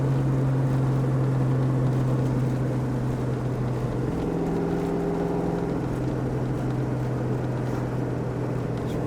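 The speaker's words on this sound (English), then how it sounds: "We'll run it through the gears up here for you when we get around the corner." A 1987 Ford Mustang 5.0 V8 accelerates, its engine drone rising steadily with a shift partway through, heard from inside the car as a continuous loud hum.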